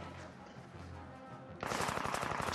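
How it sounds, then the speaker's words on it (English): Submachine gun fire in the Indiana Jones and the Staff of Kings video game breaks out as a sudden rapid burst of close, loud automatic shots after a quieter stretch of game ambience. "Submachine guns."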